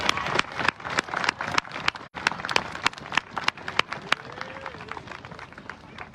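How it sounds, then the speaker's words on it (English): Audience applause at an outdoor Vermont State House tree lighting ceremony, a steady crowd of many hands clapping with sharp individual claps standing out, a brief dip near the start, then continuing evenly throughout. "So let's give them all a big round of applause."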